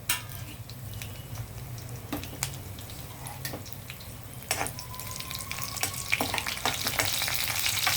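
Dry red chillies and cumin sizzle in a hot pan for a mixed vegetable fry, giving a steady low crackle broken by scattered small pops and clinks, with no voices.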